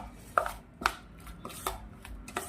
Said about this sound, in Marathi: त्याला आपण अशा पद्धतीने फेटून घ्यायचं आहे